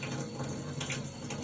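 Water runs steadily from a tap into a kitchen sink, a continuous rushing, splashing hiss that fills the short clip without pause.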